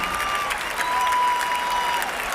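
Tennis crowd at the 1995 US Open final between Pete Sampras and Andre Agassi applauding and cheering, a dense steady roar of clapping that holds at an even level for a couple of seconds, with a faint whistle on top.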